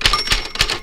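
Rapid keystrokes on a 1960 Brother manual typewriter, three or four sharp metallic clacks in quick, even succession, close and loud with no voices.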